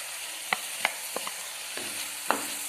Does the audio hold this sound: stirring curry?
yes